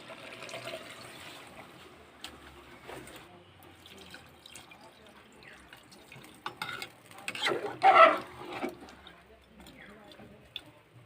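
Water poured into a pressure cooker pot of mutton, potatoes and spices, a brief splashing gush that swells and fades amid softer kitchen clatter and a quiet voice.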